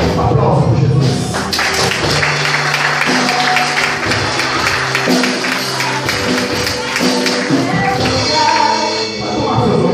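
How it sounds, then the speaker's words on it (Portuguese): Congregation applauding during a church service, a dense, loud burst of clapping with music and voices mixed in, carrying on through the whole stretch. "Aplausos por Jesus."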